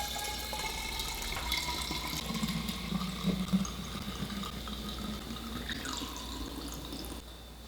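Homemade kombucha running from a spigot into a jar for a ginger berry batch, a soft continuous trickle and drip of liquid filling the vessel, close and quiet, with no talking.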